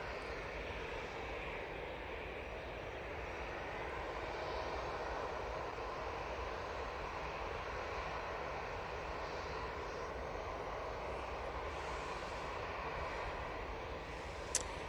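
An airliner departs Manchester Airport bound for Belfast, its engine roar a steady, broad, moderately distant rumble that holds evenly for the whole stretch, with no talking.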